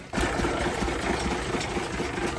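A Ford 5630 tractor engine idles steadily nearby with a continuous mid-pitched knocking chug, loud and even throughout, no voices.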